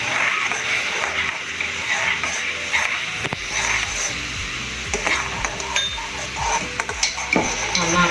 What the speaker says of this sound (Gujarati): 2-5 મિનિટ માટે કન્ટિન્યુ હલાવીશું. એટલે આપણું દહીં અને મસાલા એ તેલમાં એકદમ સરસ ફ્રાય થઈ જાય.